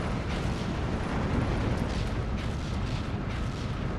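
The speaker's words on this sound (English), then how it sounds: "So more and more and more artillery fire" Continuous artillery fire rumbles through a Steel Division 2 WW2 urban battle as a dense, steady wash of distant booms and bursts, with no talking.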